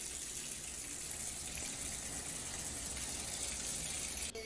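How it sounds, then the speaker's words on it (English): Water running from a bathtub spout after a DIY bathroom repair, a steady close rushing gush with constant hiss that holds evenly for several seconds, without any voices. "ran the water for a few minutes to make sure everything was"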